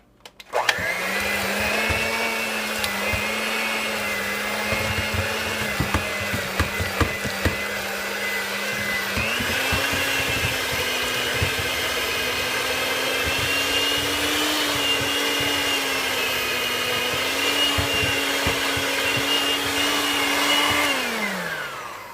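A steady electric mixer whirs as it blends two cake frosting ingredients for a rustic flag cake, running continuously at close range with a slight rise in pitch partway through and no talking.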